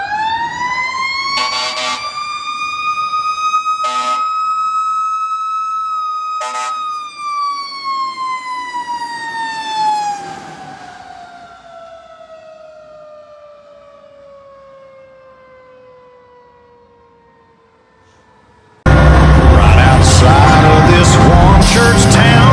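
Avenel fire engine 5-4 responding with a heavy Federal Q mechanical siren, loud and close, its wail winding down slowly while short electronic siren bursts cut in early, then loud music takes over at the end.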